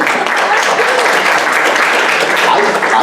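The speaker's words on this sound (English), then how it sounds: "can y'all all give yourselves a round of applause?" A loud, dense wash of applause from a keynote audience at an Accenture event, continuous and even throughout, filling a large hall.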